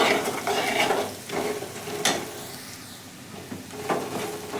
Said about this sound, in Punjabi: ਛੋਟਾ ਚਮਚ ਹਲਦੀ ਪਾਊਡਰ ਤੇ ਇੱਕ ਚਮਚ ਪਾਵਾਂਗੇ ਆਪਾਂ ਧਨੀਆ ਪਾਊਡਰ ਠੀਕ ਹੈ ਜੀ ਇਹਨਾਂ ਨੂੰ ਆਪਾਂ ਮਿਲਾ ਦਵਾਂਗੇ ਚੰਗੀ ਤਰ੍ਹਾਂ ਦੇ ਨਾਲ